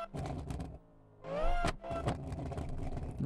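A Koenigsegg in the BeamNG driving game revs up, a rising buzzy whine with stuttering bursts before and after, fairly close and moderately loud.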